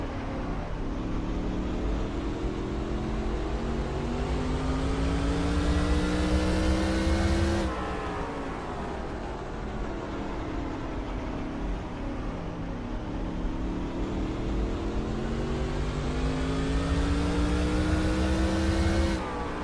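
Race car engines in a CASCAR Super Series video game at Mosport Speedway, loud and continuous, the pitch climbing through the gears with a sharp shift or drop around midway, alone with no talk.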